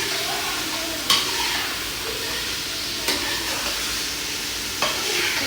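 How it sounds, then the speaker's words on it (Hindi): Chicken stir-fried in a pan for an iftar meal: a soft, steady sizzle and hiss with a few sharp scraping strokes of a spoon against the pan, fairly quiet and without talk. "अभी हम लोग इसको अच्छे तरीके से भूनेंगे। चिकन को हम लोग पकाएंगे"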